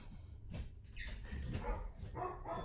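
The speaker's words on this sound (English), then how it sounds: "and my dog is barking." A dog barks indoors, a few faint, scattered barks set against low background noise.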